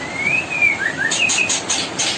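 A mother songbird calls near her twelve-day-old chicks, with clear thin chirps and short whistled phrases followed by a few brisker rapid notes, close and alone without talk.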